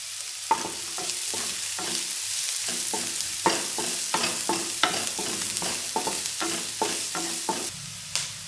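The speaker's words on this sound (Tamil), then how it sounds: "இப்போ எண்ணெய் நல்லா சூடானதும் இந்த வெங்காயத்தை நம்ம வதக்கிப்போம்." Onions sautéing in hot oil in a pan for omelette noodles, a steady close sizzle broken by repeated rhythmic scraping of a spatula stirring, with no talking.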